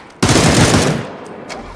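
Rapid automatic gunfire in a team shooter video game, a sudden loud burst of fast shots lasting about a second and a half that then trails off into quieter game noise.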